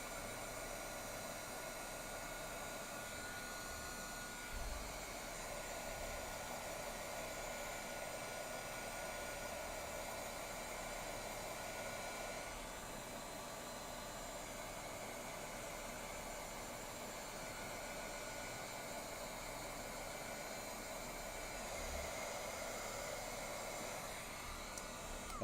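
A hair dryer blows steadily on wet ink during a foiling craft project, a continuous loud whooshing roar held close for the whole stretch with only slight shifts in tone.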